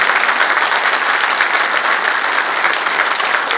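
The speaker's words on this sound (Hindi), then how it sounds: "इतनी ही तालियों की आवाज भी होनी चाहिए" Audience applause at a government ceremony handing out smartphones to revenue inspectors and record keepers, a loud, dense, sustained clapping of a large crowd with no break.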